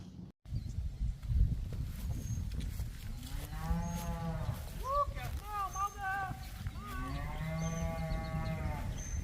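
Cows mooing on a farm, close by along a fence: several long, rising-and-falling moos from a few animals, one after another over low background rumble.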